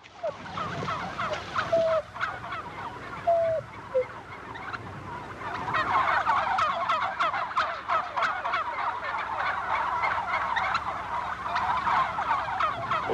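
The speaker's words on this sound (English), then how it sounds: "They're called poults at this age." A large group of young turkey poults gobbles and chirps continuously, a dense, busy chorus of overlapping calls that swells after a few seconds, with a couple of brief louder whistle-like calls near the start.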